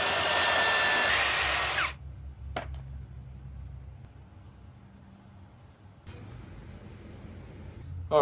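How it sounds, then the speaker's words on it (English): Power drill running a step bit to enlarge holes in metal while fitting a turbo to a 2.5 five-cylinder VW Jetta: a loud whine for about two seconds, a pause with faint handling noise, then the drill spins up again. "I'm just gonna use my step up bit, make them bigger"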